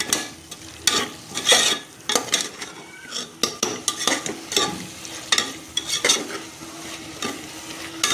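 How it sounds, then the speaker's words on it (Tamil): A spoon repeatedly scrapes and clinks through tomatoes and onions frying in a pan, with a steady sizzle underneath. The stirring strokes are close, loud and irregular, and no one speaks. "தக்காளி நல்லா கிளற விட்டுக்கலாம். நல்லா கிளறி விடணும்."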